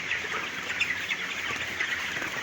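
Chickens cluck and chirp in a continuous, busy layer with no voices.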